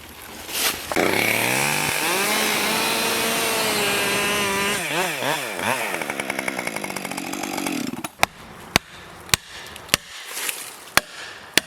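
A chainsaw bore-cuts into a tree being felled near buildings, roaring loudly at high revs as its pitch rises and wavers under load. It then drops to a rough idle, followed by several sharp knocks, as if wood is being struck.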